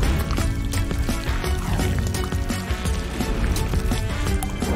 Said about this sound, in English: Keep pouring.